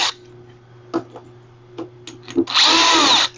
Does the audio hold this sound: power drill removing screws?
yes